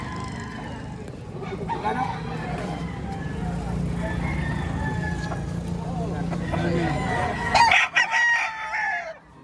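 A rooster crows amid a busy, noisy Padre Garcia, Batangas market scene with people talking throughout, the call rising over the chatter before things quiet near the end.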